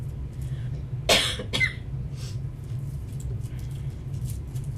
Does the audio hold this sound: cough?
yes